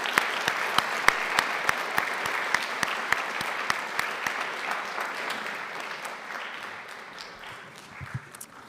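An audience at a school district board meeting applauds the students, with crisp, close claps standing out at first before the clapping thins and gradually fades toward the end.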